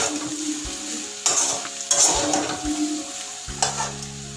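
Flattened rice (chira) pulao is stirred and fried in a pan, with a steady sizzle and several spoon scrapes and knocks against the pan at irregular moments.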